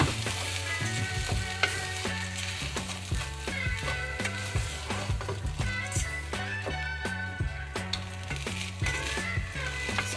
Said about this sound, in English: So I will saute for 1 minute